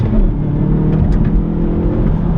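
Loud in-cabin engine roar from a front-wheel-drive Hyundai i30N Performance hot hatch under hard acceleration, a continuous strained drone with a quick gearshift break partway through.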